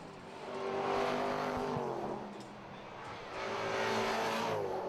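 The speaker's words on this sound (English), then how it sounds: "Just nice to listen to the front of the V8s, isn't it, going through there" V8-engined pre-1966 touring cars racing at Brands Hatch roar past in two loud waves, engines rising and falling in pitch as they sweep through a corner, with no talk over them.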